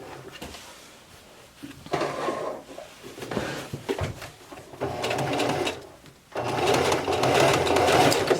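Sewing machine stitching back and forth across a drawstring backpack to reinforce the seam, running in several loud bursts separated by short pauses.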